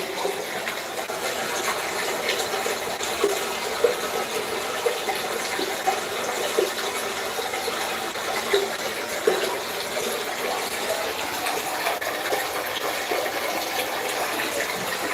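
Continuous rushing, bubbling water, loud and steady throughout, like an aquarium filter pouring into a tank.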